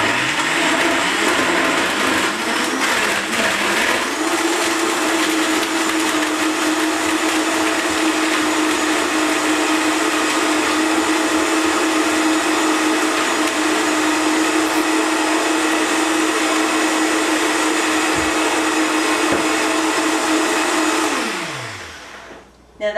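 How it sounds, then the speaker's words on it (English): A high-powered blender whirs steadily through a fruit and fresh summer greens smoothie, a loud, continuous motor roar running close by for about twenty seconds before winding down and stopping. "I'm going to give it one more quick blend to make sure all the fruit's blended up."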